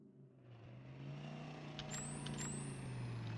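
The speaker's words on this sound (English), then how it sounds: "Is that a car engine I hear? Negative, that's our friendly APCs." Engines of M113 armored personnel carriers in a military video game, a low steady diesel rumble that builds slightly, with two brief hissing air bursts over it.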